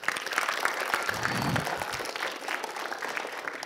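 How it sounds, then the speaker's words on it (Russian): Audience applause after a lecture on space nanotechnology in semiconductor materials science, a steady dense clapping from a crowd filling the room, sustained at even loudness throughout. "Ваши аплодисменты."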